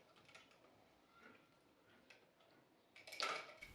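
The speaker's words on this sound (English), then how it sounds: "grab the transparent gear with your grips and turn clockwise to release" Grips turning the transparent gear loose on a Magic Bullet blender motor, quiet plastic ticking and clicking close by, ending in a sharper ratcheting crack as the gear breaks free.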